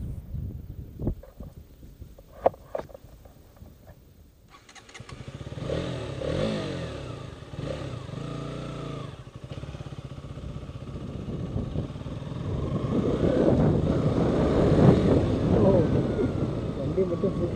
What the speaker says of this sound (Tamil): பைக் ரைட் பண்ணி பார்த்துடலாம்.